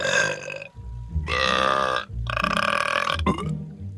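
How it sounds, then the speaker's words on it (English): Puss in Boots, the cartoon cat, lets out a series of loud, drawn-out burps, three long belches in a row followed by a short final one, with no talking between them. "Ah, fountain of burps."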